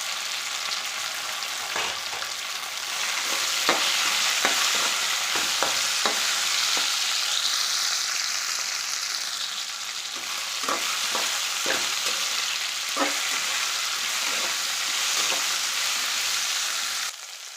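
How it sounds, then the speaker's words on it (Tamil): Okra sizzling and frying in a pan with dried red chillies and curry leaves for kara kuzhambu, a steady loud hiss with occasional scrapes and clinks of stirring. "நல்லா வெண்டைக்காயை வதக்கிக்கலாம்"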